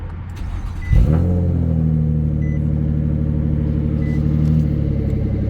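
A 2009-2014 Nissan Maxima engine cranks briefly and catches at once, settling into a steady, close idle hum that continues alone.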